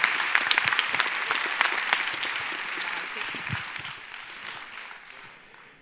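An audience at the Nantes final of a thesis-in-180-seconds contest claps steadily, a dense wash of applause that slowly fades out over almost six seconds.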